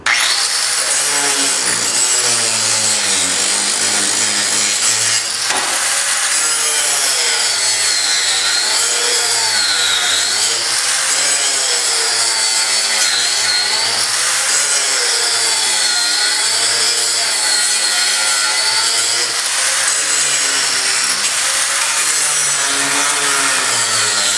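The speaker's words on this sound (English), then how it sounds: "So we'll come in with our grinder, being careful not to damage the actual dash." An angle grinder works continuously on the dashboard of a classic car under restoration, loud and close, with a steady abrasive whine that wavers in pitch as pressure changes and briefly dips around five seconds.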